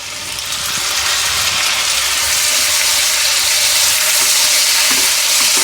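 Keema and tomato fry in a pan with a loud, constant sizzle that swells in the first second and then holds steady, close up, with faint stirring beneath.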